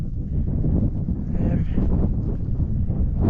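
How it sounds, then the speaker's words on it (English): Wind buffeting a microphone outdoors during a stormy night, a close, low, gusty rumble that swells and churns for a few seconds. "I don't know how much the wind is affecting the sound"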